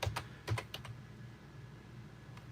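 Someone types on a computer keyboard, with a few quick clusters of key clicks at the start, a pause, then a couple more faint taps near the end, heard close in a quiet room.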